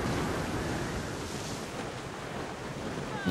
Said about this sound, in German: Was für ein Wind